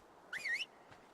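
Whistle command in ARK Aberration on Xbox One: a single short rising-and-falling whistle, clear and close, alone against quiet background, followed by a faint softer trace.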